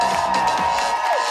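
Audience fans at a humor league contest cheer for a team, a loud sustained roar of crowd voices with whoops and shouts, dense and continuous.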